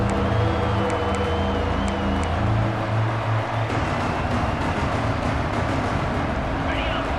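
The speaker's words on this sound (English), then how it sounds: "the crowd coming to life here" Football stadium crowd roaring during a Texas vs Texas A&M game as the defense holds in the red zone, a dense sustained wall of noise with a commentator talking over it throughout.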